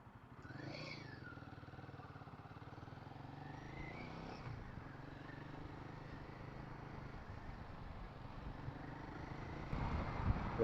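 A Royal Enfield Himalayan 450 motorcycle from 2025 rides through city streets, its engine a low steady hum heard from the saddle, rising slightly toward the end; no talking.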